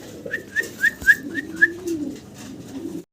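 Bombay pigeons at a pigeon farm give a quick series of about six soft, rising coos, close and clear over a low background murmur.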